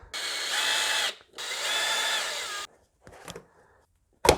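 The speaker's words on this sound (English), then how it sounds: "with a 7mm socket, undo these hose clamps" A 7mm socket on a power driver whirs in two sustained bursts as it undoes hose clamps on a car's air intake, followed by softer clicks and handling noises and a sharp clack at the end.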